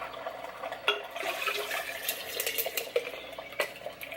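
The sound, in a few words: pouring coffee into a container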